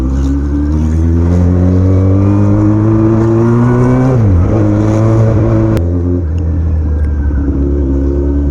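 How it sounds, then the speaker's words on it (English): A Yamaha R1 1000cc sports bike engine runs loud and close with a deep harmonic drone, revving steadily, dipping briefly around a shift, then settling back into a strong sustained rumble. "Right now I'm riding an R1, Yamaha R1"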